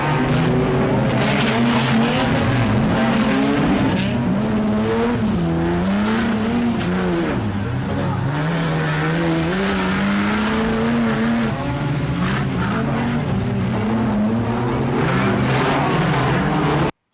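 Banger racing cars, including a BMW, at Stansted Raceway roaring continuously at close range, with engines revving and warbling through the gears while tyres squeal and skid throughout.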